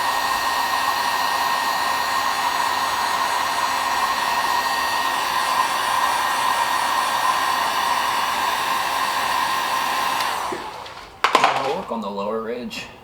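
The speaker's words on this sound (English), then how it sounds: "I'm just gonna go ahead and hit it with a heat gun" A heat gun blows steadily on BMW E39 interior trim, a constant loud whooshing hum with tonal whine that runs for about ten seconds, then cuts out into brief clattering handling noises near the end.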